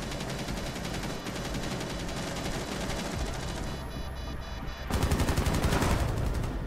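Rapid bursts of automatic gunfire from a firefight in the tactical shooter Rainbow Six Siege, loud and continuous with sharper, heavier volleys near the end.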